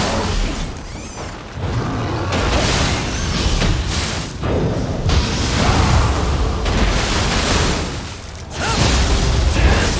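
Loud booming blasts and heavy crashes fill the Nioh 2 fight as exploding objects are struck, with dense bursts and whooshes following one another in surges, no talk heard.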